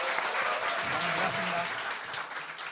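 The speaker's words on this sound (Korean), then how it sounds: "박수 부탁드립니다" An audience in a Korean talk-show studio breaks into applause, a dense, steady wash of clapping that holds for a few seconds at moderate loudness.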